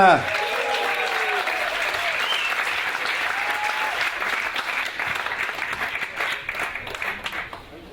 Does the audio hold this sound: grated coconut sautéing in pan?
no